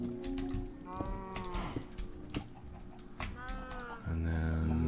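Blocky Minecraft cows moo repeatedly in overlapping calls, fairly close and loud, with several animals layered together and a louder steady low moo at the end.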